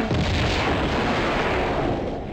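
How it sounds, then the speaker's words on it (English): Grenade launcher fire in the Tomb Raider 2 game, a dense, loud booming burst that holds steady for a couple of seconds with no voice over it. "I'm gonna equip my grenade launcher."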